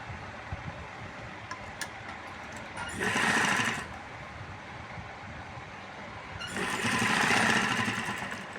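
A sewing machine stitches piping onto a man's garment in two short, steady bursts, the first a brief run and the second a longer one, with a quiet pause of room hum between them.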